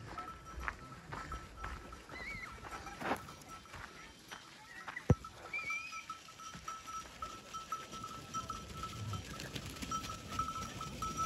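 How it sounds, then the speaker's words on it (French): Goats bleating intermittently nearby as a herd passes, with scattered hoof clatter and faint bell clinks amid outdoor ambience. "on va laisser passer les chèvres"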